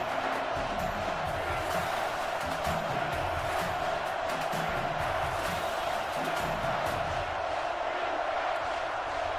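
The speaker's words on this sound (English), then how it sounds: "And this crowd is livid." Stadium crowd noise in an NCAA football video game, a dense, continuous roar of a large crowd at steady loudness with indistinct voices mixed in.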